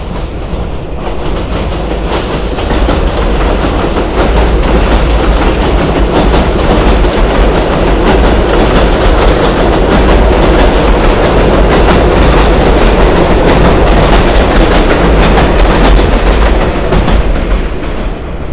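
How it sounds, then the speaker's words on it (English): A long New York subway D train rolls past close by, a loud continuous rumble with steady clickety-clack of wheels over rail joints filling the whole stretch, no voices over it. "There's the D train."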